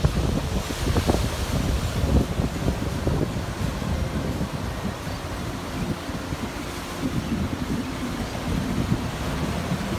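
Waves wash onto a beach with steady wind buffeting the microphone, a continuous surf roar with no voices.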